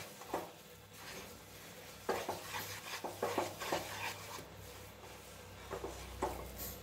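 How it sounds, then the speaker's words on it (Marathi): A fasting barfi mixture being stirred in a pan, the spoon scraping and rubbing in irregular strokes, close and moderately loud, over a low background hum. "आणि हे गोळा होईपर्यंत सतत हलवत राहायचं आहे, कोरडं होऊ द्यायचं नाही।"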